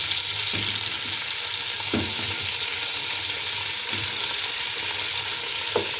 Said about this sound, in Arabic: نديها تشويحة كده